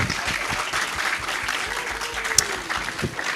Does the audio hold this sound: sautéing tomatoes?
no